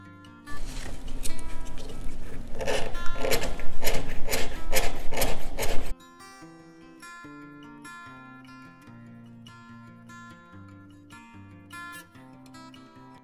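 A hard piece of yellow ochre scratches a design into clay, giving a series of rhythmic rasping strokes, close and fairly loud, before the scratching stops and a quieter stretch with faint tonal sounds follows.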